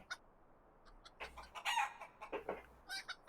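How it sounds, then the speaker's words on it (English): Cartoonish chicken clucks and squawks from a friendly hen character in a fantasy adventure video game, a short burst of several bright, close clucks rising to a louder squawk, with no talk over them. "Here's our first chicken friend to talk to."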